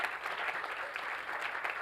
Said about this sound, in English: Give Eileen a round of applause.